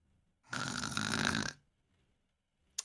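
A single loud snore, a long rough, rattling inhale of about one second, heard close and alone in quiet, followed by silence and a brief faint click at the end.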